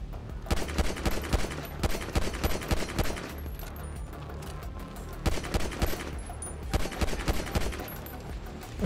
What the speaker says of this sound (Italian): Ci stanno sparando addosso, ragazzi, sti maledetti.